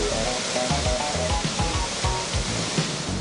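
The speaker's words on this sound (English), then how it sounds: "The remarkable Seka Waterfalls, located in the dense tropical forest" The Seka Waterfalls in a dense tropical forest produce a constant loud broadband roar of falling water. Music plays under it.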